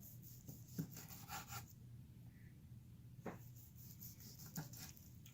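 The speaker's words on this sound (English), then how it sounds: "We'll cut a couple pieces here." A knife slices through grilled smoked beef tri tip in quiet, close rasping strokes, three soft cuts spaced a couple of seconds apart.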